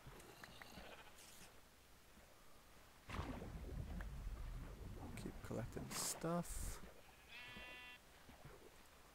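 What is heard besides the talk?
sheep bleating in a video game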